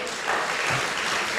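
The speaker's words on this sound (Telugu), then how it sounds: "ఒకసారి చప్పట్లు కొట్టండి" A church congregation claps together, a dense, steady burst of many hands with no clear individual beats.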